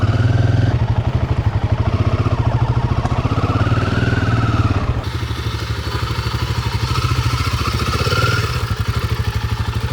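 A motorcycle engine runs steadily at the start of a ride out of Pokhara toward Muktinath in Nepal's Mustang region, a loud close throbbing drone with clatter and a brief dip mid-way, no talking.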